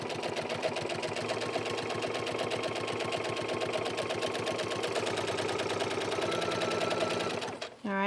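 A sewing machine runs steadily, stitching a seam on a steampunk accessory near a thumb hole, with reverse stitching at the seam ends; the close, continuous whir holds for most of the clip before stopping abruptly near the end.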